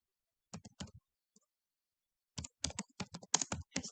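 Typing C++ code on a computer keyboard: a quick burst of a few close, crisp key clicks, a brief pause with one stray tap, then a faster run of sharp keystrokes, with no talking.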